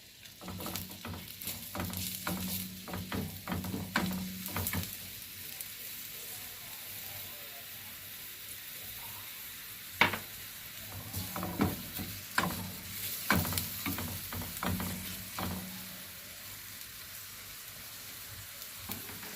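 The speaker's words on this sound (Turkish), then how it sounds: "Bir tane tam büyük boy soğanım var. Kavuracağım." Onion sautéing in oil in a pan gives a quiet, steady sizzle broken by scraping stirs at intervals, with faint background noise and no clear talking.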